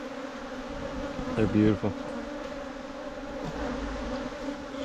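Honey bees buzz in a steady, close drone around a hive frame during almond pollination hive work, with a brief louder swell as bees pass near, while a person speaks a few words.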